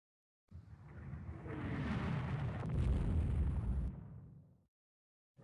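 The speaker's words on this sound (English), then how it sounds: "Goyben torpedo tubes explode." Torpedo tubes exploding aboard the German warship Goeben in the naval game Rule the Waves 2. A single loud, rumbling blast swells, holds for about four seconds, then cuts off, with no talk over it.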